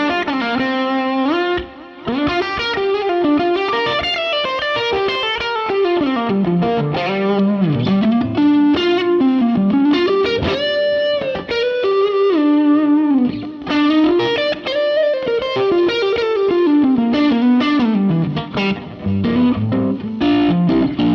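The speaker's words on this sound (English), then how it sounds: "Just such great soupy drive tones." Overdriven electric guitar played through a Fender Super Amp 6G4, warm soupy distorted tone with a melodic lead line, sustained notes and bends, loud and alone without speech.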